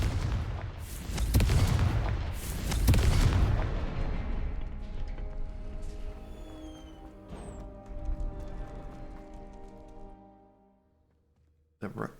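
A fiery Confringo spell blast in Hogwarts Legacy, with heavy booming explosions that roll out into a long fading rumble and a faint ringing tail, followed by a brief sharp hit at the end.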